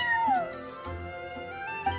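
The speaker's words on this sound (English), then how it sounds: "that's my neighbor's cat" A cat meows inside the Genshin Impact video game, a drawn-out rising and falling cry followed by a shorter second call, mixed over steady game music.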